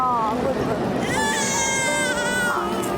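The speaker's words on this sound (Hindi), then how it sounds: "बच्चे की रोने की आवाज।" A baby cries in short wavering wails close by, rising and falling over a noisy indoor background.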